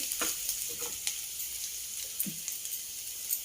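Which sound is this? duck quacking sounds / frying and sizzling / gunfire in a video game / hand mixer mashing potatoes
frying and sizzling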